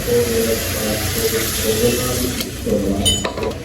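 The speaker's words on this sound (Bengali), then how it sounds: "জল কিন্তু আমি দিয়ে দিছি" Water runs steadily into a pot of cooking vegetable curry with a continuous splashing pour, under a low background hum.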